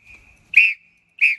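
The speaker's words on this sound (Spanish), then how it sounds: "Un loco está usando el silbato desesperado y haciendo mucho ruido." A whistle blown hard at a beach, two loud shrill blasts in quick succession, close and piercing, with a thin steady tone running between them.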